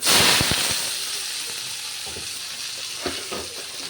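Onions tipped into a hot pan with mustard seeds already spluttering, starting with a loud burst of sizzle that settles into steady close frying, with a few sharp crackles and stirring clicks.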